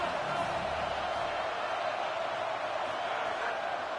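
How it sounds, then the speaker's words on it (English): A dense, steady stadium crowd roar during a Tennessee Volunteers college football game on a third-down defensive stand, sustained and broad at a fairly even level throughout. "Decibels rising as the crowd gets behind this defense on third down."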